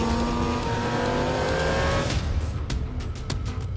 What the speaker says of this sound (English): That muscle car needs to sound like that traditional muscle car.